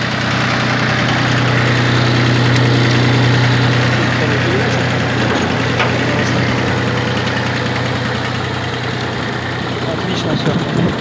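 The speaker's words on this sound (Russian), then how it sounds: "давайте включим фрезу, посмотрим, как работает фреза" Mitsubishi MT1401D four-wheel-drive tractor runs with its rotary tiller engaged, a steady loud mechanical drone with a low hum and rattling, continuous and close throughout.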